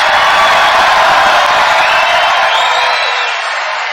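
A large outdoor crowd at a Donald Trump political rally in Rochester, New York roars and cheers in a dense, continuous wash of noise that eases slightly at the end.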